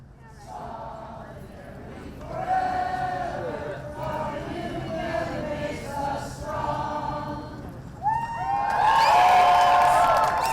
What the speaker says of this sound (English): the crowd did one final chant